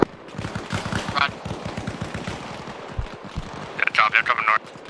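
Gunfire in the military game ArmA Reforger as Soviet mechanized infantry clears a fortified quarry: rapid rhythmic bursts of automatic fire, mid-distance, running continuously under frequent voice chatter, with a sharper cluster of shots near the end.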